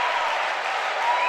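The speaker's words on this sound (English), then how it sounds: "you just saw how the crowd went wild for that" Crowd at a college volleyball match cheering and applauding after a point, a dense, steady roar of claps and shouts filling the whole moment at even loudness.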